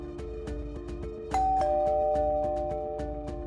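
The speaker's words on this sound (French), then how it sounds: "au bruit de la sonnette" A doorbell rings once with a clear chime that sustains and slowly fades, over a steady rhythmic musical backdrop.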